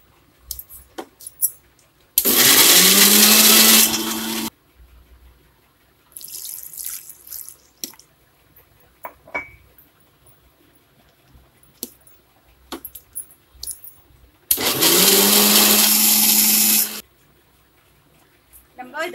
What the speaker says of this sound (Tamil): இப்போ மிக்சியில் வச்சு நம்ம அரைக்கலாம்.